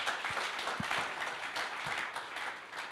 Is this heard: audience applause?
yes